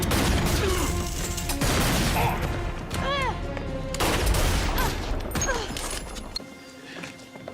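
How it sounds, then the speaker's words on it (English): Gunfire in a televised police shootout rings out as loud, dense bursts of shots and crashes, repeated through the scene over music and raised voices before easing off near the end. "I have so many questions about Reese participating in a police shootout"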